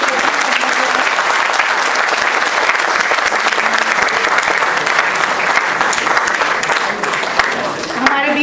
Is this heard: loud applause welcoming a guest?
yes